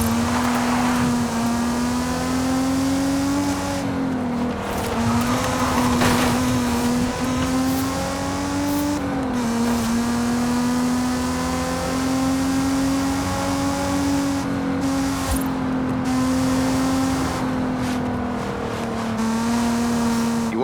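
Engine of a car in the racing video game Forza Horizon 5, a steady, loud revving drone that holds pitch with small rises and dips, broken by brief shifts and accelerations.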